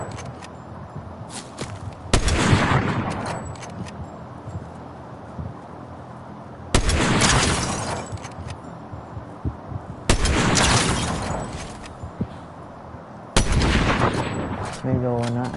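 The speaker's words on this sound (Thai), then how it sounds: "ตรงนู้นยิงกันแหลกเลย" Gunfire erupts in the Fortnite video game: four sharp, loud blasts at irregular intervals, each trailing off into a fading rumble, with quieter game noise in between.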